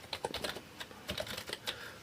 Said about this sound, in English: first, let's type in username